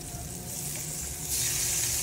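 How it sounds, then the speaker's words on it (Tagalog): Close, steady sizzling of pork belly frying in hot oil in a pan, growing louder and hissier toward the end. "nagprito lang po tayo ng pork belly po"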